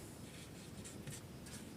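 Chalk or a marker moves across a classroom board in short, faint strokes with light scratchy squeaks, close by and without talking.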